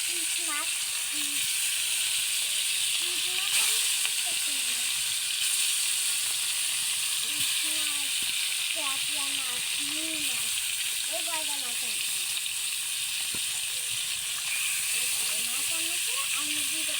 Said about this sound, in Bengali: আমার কড়াই গরম হয়ে গেছে, মাছগুলো ভেজে নিই।